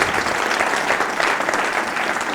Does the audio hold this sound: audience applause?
yes